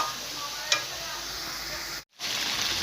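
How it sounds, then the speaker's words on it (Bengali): Chicken pieces sizzle and fry in a pan while being stirred, a steady close hiss with a brief scrape and a short drop near the end. "এখন আমি যেরকম নাড়ছি এরকম করে নাড়তে থাকবেন।"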